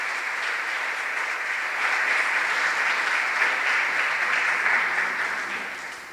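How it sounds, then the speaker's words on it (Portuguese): An audience claps continuously, a dense, even roar of many hands that swells slightly midway and tapers toward the end, with no individual claps standing out. "pode aplaudir mesmo, pelo amor de Deus,"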